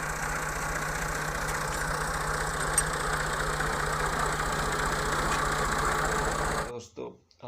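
A 1985 Ford 3610 tractor engine idles steadily with a low, even diesel chug and rattle, close and loud, then cuts off abruptly near the end, leaving brief quiet clatter.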